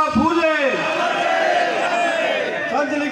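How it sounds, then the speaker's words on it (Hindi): A large crowd at a Mali community gathering in Parbatsar, Rajasthan, shouts in unison, a loud sustained massed chant of many voices with rising and falling calls throughout. "एक बार नारा भी लगा देंगे, महात्मा ज्योतिराव फूले"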